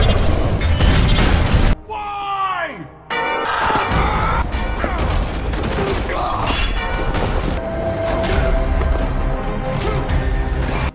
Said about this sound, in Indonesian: Semua peluru yang ditembakkan oleh Guerrero dikendalikan oleh Lucifer